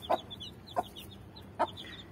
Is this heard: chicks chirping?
yes